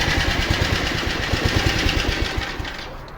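Small Honda lawn mower engine idling steadily after freeing a seized motor, a fast even putter with slight knocking vibration, close and loud throughout.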